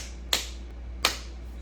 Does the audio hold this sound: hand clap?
yes